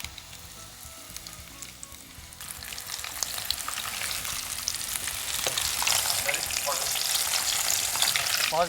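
Crumb-coated fish fillet with cheese frying in hot oil, a steady crackling sizzle that grows louder and denser after a few seconds and keeps going alone without talk.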